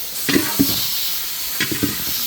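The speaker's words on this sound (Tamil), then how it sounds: "இப்போ அடுத்து ஒரு மூணு வெங்காயம் வெட்டி சேர்த்துக்கோங்க" Chopped onions fry in hot oil with masala for an egg thokku, a loud steady sizzle close by, broken by a few quick stirring scrapes in two short bursts.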